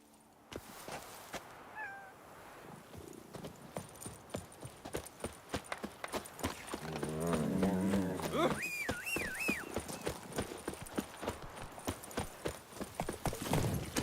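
A horse walks in the video game The Witcher 3: Wild Hunt, its hooves clip-clopping in a steady rhythm throughout, with a brief whinny-like cry partway through.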